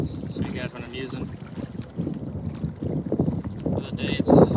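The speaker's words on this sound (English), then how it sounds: "it's super windy, as you can tell. Super duper windy." Strong wind buffets the microphone in low, rumbling gusts while bass fishing on the water, with splashing water and faint voices underneath.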